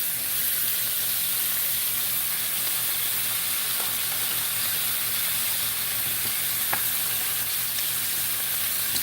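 Sausage and bacon frying in a pan on a home stove make a constant dense sizzle and hiss, with a few faint pops and clicks and no talking.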